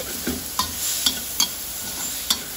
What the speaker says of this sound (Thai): นี่ค่ะผัดให้เป็นหอมนะคะ